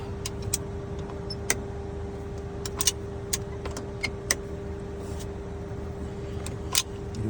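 A golf cart just back from a solenoid repair hums along steadily, a constant motor whine running under scattered light clicks and rattles, with no talk.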